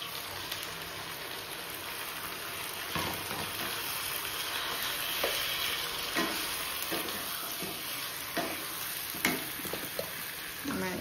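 Marinated chicken with ginger, chili and garlic paste and yogurt frying among fried onions and spices in a pan, a steady loud sizzle with scattered stirring scrapes and a voice talking now and then.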